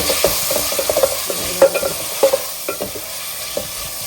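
Tomatoes frying with sautéed onions in a pan on a home stove, with steady sizzle and repeated stirring scrapes, close and moderately loud, no talk.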